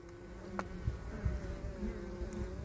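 Steady low buzzing of calm honey bees close by at an open hive with capped brood in February, a dense continuous drone with a few louder swells as individual bees pass near.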